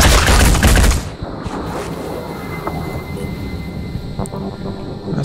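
Weapon fire in the tactical shooter game Phoenix Point, a loud broadband burst of shots for about a second, then a lingering rumbling decay with faint scattered ambience.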